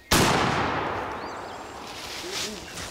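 A single loud rifle shot on a hunt, sharp and close, followed by a long outdoor echo fading away, with faint distant voices afterward.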